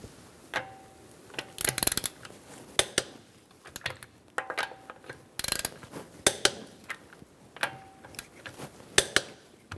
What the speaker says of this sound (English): We're going to torque our wheels to 100 foot-pounds using a 19mm socket.